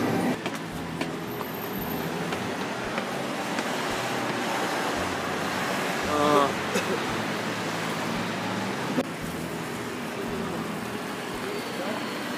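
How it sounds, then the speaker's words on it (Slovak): A Milan metro train rumbles continuously nearby with a steady rolling roar, brakes squealing briefly midway, in a reverberant station. "Metro prišlo, metro odišlo?"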